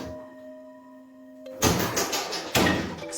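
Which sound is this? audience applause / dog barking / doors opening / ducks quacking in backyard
doors opening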